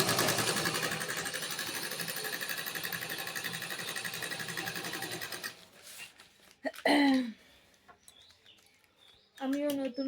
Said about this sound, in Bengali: এই যে আমি এখন মেশিন স্টার্ট করলাম